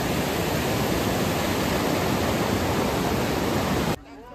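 A waterfall roars as a loud, dense, steady rush of water close by, then cuts off abruptly near the end, leaving only a faint background.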